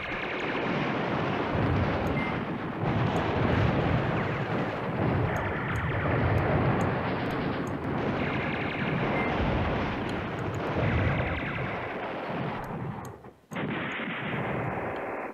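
Artillery fire in the World War II strategy game Command Ops 2: Highway to the Reich, heard as a dense, rumbling barrage of repeated booms that rolls on for the whole stretch and drops briefly near the end.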